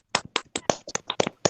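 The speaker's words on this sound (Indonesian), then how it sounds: "Beri tepuk tangan untuk Lydia" Classroom applause: a short burst of about ten quick, distinct hand claps, close and fairly soft, with no talk over them.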